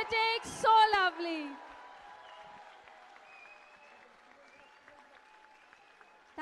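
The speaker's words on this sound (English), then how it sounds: "Can we give them a big round of applause?" A school audience applauds children after their stage performance at a Chrysalis High morning show in Kadugodi. A voice speaks briefly first, then steady, fairly faint applause continues for several seconds.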